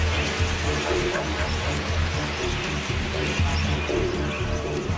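Thirsty budgerigars flutter and call while drinking, with dense chirps and soft cooing calls over a busy wash of wingbeats and background noise throughout.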